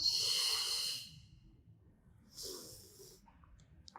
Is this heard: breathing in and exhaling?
yes